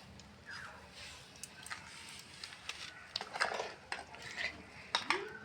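Rice with turmeric stirred in a cooking pot over a wood fire, with a faint, irregular scraping and clinking of a spoon against the pot that grows busier toward the end, heard close but quietly.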